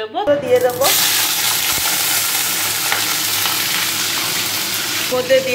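Hot mustard oil in a wok bursts into a loud, steady sizzle of frying that hisses continuously, with a brief voice near the start and end.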